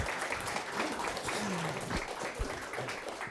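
A meetup audience gives a short round of applause, steady moderate clapping from a room of people with faint voices mixed in.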